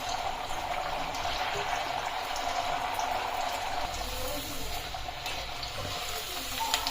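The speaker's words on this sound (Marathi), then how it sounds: "आता ही बट्टी चिरून घ्यायची आणि ह्याला तळायचं. कडक होईपर्यंत छान तळायच्या." Sliced bati, a baked Indian wheat dumpling for dal-bati, frying in oil until crisp, giving a steady, dense crackling sizzle that holds at an even level throughout, close by with no talk.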